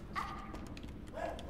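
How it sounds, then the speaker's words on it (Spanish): Dogs bark in the Arctic puzzle video game Never Alone, a couple of short yips over a steady wind-like game ambience, fairly quiet and without talk. "¿Y los perros por qué ladran?"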